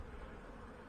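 Honey bees buzzing around a hive in warm weather while foraging on wild blackberries, a dense continuous drone close by that holds steady and fills the whole moment.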